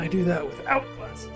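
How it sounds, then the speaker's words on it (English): A pet dog whimpers and yips in short bursts close by, partly under someone talking at a home gaming setup. "That's my dog."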